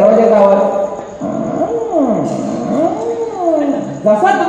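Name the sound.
vocal imitation of a door opening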